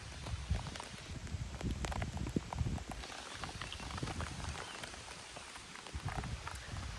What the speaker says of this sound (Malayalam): മഴ പെയ്തു തുടങ്ങി